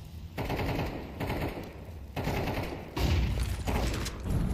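Rapid automatic rifle bursts from a Counter-Strike match crackle in repeated volleys, the last ones the loudest, each separated by short gaps.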